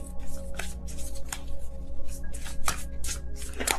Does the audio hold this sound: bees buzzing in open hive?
no